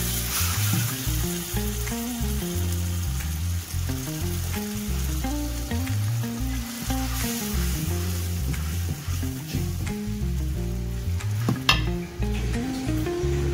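Chopped tomatoes fry in a pan for tomato rasam, giving a steady close crackling sizzle with occasional stirring scrapes, with no talk.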